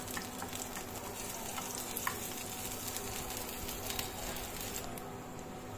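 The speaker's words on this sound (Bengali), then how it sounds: "এটা বাটার দিয়ে রসুনটা আমি ভেজে নিচ্ছি" Garlic sizzling in melted butter in a pan, a steady close crackling fry with faint stirring scrapes throughout and no talking.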